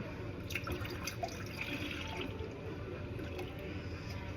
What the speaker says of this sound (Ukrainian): у сотейник із товстим дном ми наливаємо 500 мл молока